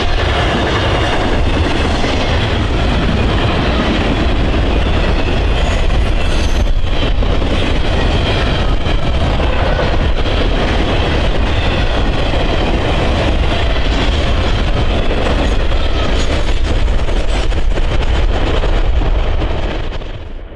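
A Norfolk Southern 21M freight train led by an SD70M locomotive rolls westward past in cold weather, a loud, continuous roar of wheels and rail cars with clickety-clack and occasional squeal, close by for the whole stretch.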